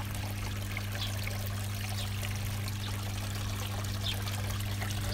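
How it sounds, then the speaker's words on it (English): Water from a garden fish pond waterfall trickles and splashes steadily, a constant close, even flow with a faint low hum running underneath. "there's the waterfall."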